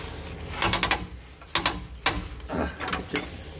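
A hand ratchet turning a long, fine-threaded bolt while fitting homemade traction bars, heard as bursts of quick clicking separated by short pauses, fairly close and moderately loud.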